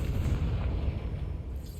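A Confringo blasting spell exploding in Hogwarts Legacy, a single low, rumbling boom that fills the short moment and fades slightly at the end.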